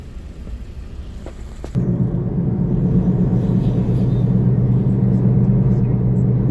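A car cruises along a main road in Accra, Ghana, toward Accra Mall and the motorway, with a steady close engine and road rumble that swells a notch after the first couple of seconds and then holds even.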